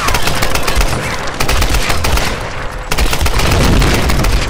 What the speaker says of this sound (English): Go ahead and stay with this rifle, because it's actually pretty good.